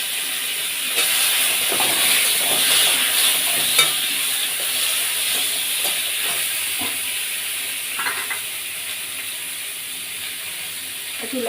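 Potatoes and raw mango pieces fry in a pan with panch phoron and dried red chillies, giving a steady close sizzle with scattered stirring scrapes and small pops throughout, no voices.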